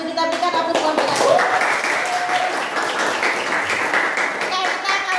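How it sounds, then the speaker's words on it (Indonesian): Students in an Indonesian economics classroom clap for group 1, a brief burst of lively applause from a small crowd, with a teacher's voice talking over it. "Terima kasih untuk kelompok 1 kita berikan aplaus kelompok 1"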